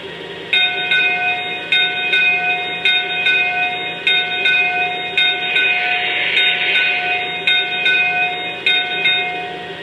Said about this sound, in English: Now let's check out the bell.